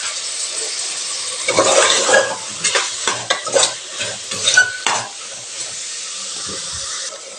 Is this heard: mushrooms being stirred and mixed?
yes